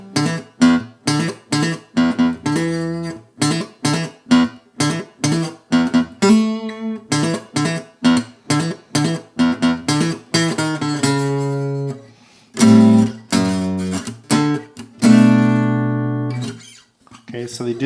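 Guitar plays the bridge walk down into the ending of verse 2 of a song: a clear run of strummed and picked chords with a stepping bass line, close and alone, ending on sustained ringing chords.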